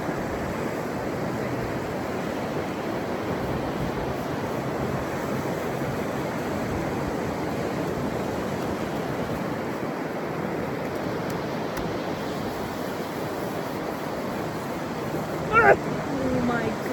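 Ocean waves wash onto a beach in a continuous broadband roar with steady wind noise across the microphone and a brief louder burst near the end.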